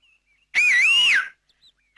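A person whistles one loud, clear tune that swoops up and down for about three quarters of a second in near silence. Faint tones are heard before and after it.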